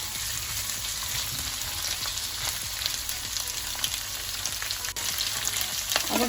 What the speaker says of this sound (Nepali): अब यो सबैलाई 30-40 सेकेन्ड जति फ्राई गर्नुपर्छ सबै मिलाएपछि।